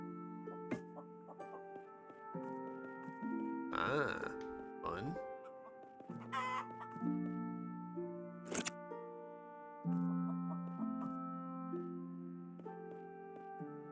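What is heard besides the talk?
chicken clucking in the video game Phoenotopia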